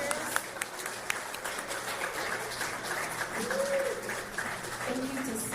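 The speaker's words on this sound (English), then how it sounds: "Can we please have another round of applause for all of our speakers?" Audience applause after speakers at a congressional event, steady clapping at moderate distance with some scattered voices and murmurs underneath.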